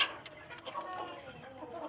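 Soft, brief clucking from nearby tethered chickens at feeding time, fairly faint, with a few short bird calls over quiet background.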